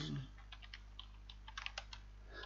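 Faint, scattered keystrokes on a computer keyboard as a search is typed, soft irregular clicks over a steady low hum in a quiet room.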